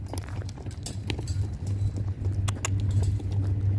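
A quarter horse mare moving out on the ground, her hooves giving a steady, close clip-clop rhythm over a low continuous hum.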